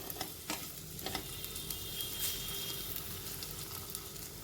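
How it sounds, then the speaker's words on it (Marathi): Steady sizzling of dates frying in ghee, with occasional scraping clicks of a spatula stirring the pan, close and continuous. "हे जेव्हा आपण असं परतून घेतो तुपामध्ये"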